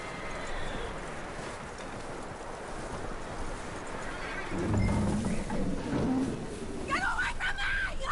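A horse's hooves clip-clop in Red Dead Redemption 2, faint under wind and ambient game sound, followed by a louder burst of hoofbeats and a brief whinny-like call near the end.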